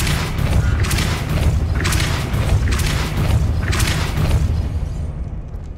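Depulso spell cast in the PC game Hogwarts Legacy: a loud run of deep, booming blasts over a continuous low rumble, with several sharp bursts spaced about a second apart and no talking.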